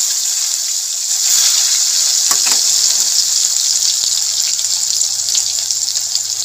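Chopped tomatoes dropped into hot mustard oil tempered with black cumin, for Bengali parshe fish curry, a loud steady crackling sizzle close up with a brief stir or splash partway through.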